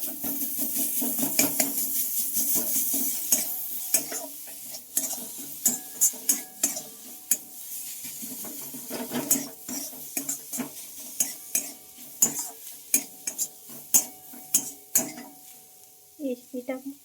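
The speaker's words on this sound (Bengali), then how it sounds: "সবগুলো একটু ভালোভাবে মিশিয়ে নেব" A spoon stirs a turmeric and spice paste mixture in a pan for carrot chops, with repeated quick metallic taps and scrapes over a faint sizzle, close and fairly quiet.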